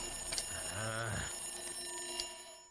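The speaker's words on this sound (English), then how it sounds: "make several unsuccessful attempts to turn off the alarm on my phone" A phone alarm rings in the horror video game Devil's Whispers, a steady electronic tone pattern with a few brief chiming pulses, heard up close beside a short low vocal murmur.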